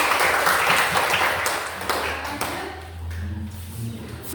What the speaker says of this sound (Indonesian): Berikan aplaus untuk kamu